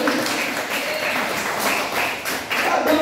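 A church congregation clapping together during a service, dense rhythmic applause at steady moderate loudness with faint voices mixed underneath.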